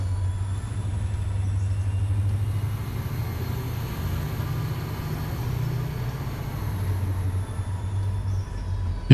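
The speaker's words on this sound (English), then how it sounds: "that's why we're just following a couple of the passenger trains" A passenger train running in the railroad simulation game Railroader, a steady low rumble of rolling wheels and engine drone that continues evenly throughout, fairly loud with no talk over it.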